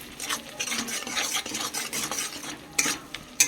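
Spatula stirring tilapia curry masala with cauliflower and potato in a pan, a rapid run of rasping scrapes and light metallic clinks over soft sizzling, close and continuous, no one talking.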